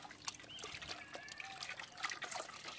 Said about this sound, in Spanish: y viene y se le echa un poquito de agua arriba para luego alisarlo